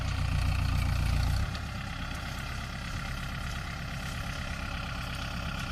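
A tractor hitched to a six-wheel trailer idles at close range with a steady low rumble, heavier at first and then settling to a lighter, even chug.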